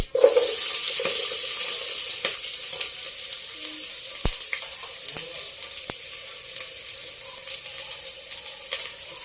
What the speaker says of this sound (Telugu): తర్వాత ఇవి బాగా వేగిన తర్వాత చూడండి ఉల్లిపాయలు కొంచెం